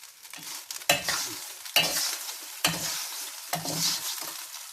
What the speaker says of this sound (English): I put the noodle on the pan. Yes, on the hot pan, and then stir